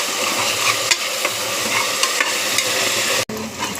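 Onions, mint leaves and turmeric frying in a pan with curry leaves, giving a steady loud sizzle and crackle, with a few soft stirring scrapes and a brief clunk near the end.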